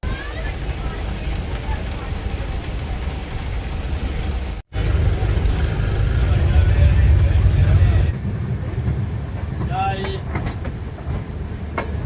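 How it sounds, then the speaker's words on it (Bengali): The Jammu Tawi Express runs along the rails with a steady loud rumble and rhythmic clatter heard from inside the train, briefly interrupted, then a lighter, more distant rolling tone toward the end. "ট্রেন পুরো ঠিক সময় মতো চলছে।"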